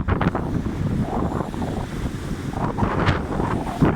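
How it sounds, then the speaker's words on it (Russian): Gusty wind buffets the microphone while sea waves surge and wash nearby on a stormy morning seashore in Tallinn, Estonia, no voices present. "Соленый ветер и море."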